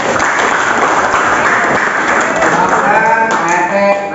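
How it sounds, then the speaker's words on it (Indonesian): A crowd of people in a school classroom applauds steadily throughout, a dense wash of clapping at close range, with a few voices briefly audible near the end. "betul, tepuk tangan"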